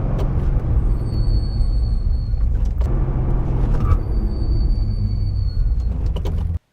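A car drives on the road during a brake bedding-in run, giving a loud, steady engine and road rumble with a couple of sharp knocks or thumps, and no voices.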